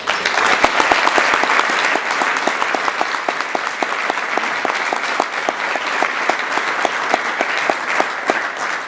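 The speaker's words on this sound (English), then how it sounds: "let's give them a round of applause" An audience at a city address applauds police officers, steady dense clapping with crisp individual claps standing out, continuous and fairly loud throughout, with no talk over it.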